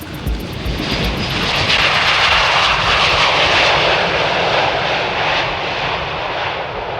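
Passenger airplane engine roaring loud and steady as the aircraft passes, a broad continuous rumble that swells and slowly fades, with no voices.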